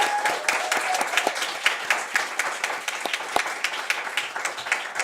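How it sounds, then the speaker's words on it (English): Audience applause at a student association election event, many hands clapping steadily at a moderate distance with distinct individual claps standing out, and no talking over it. "So applause to him."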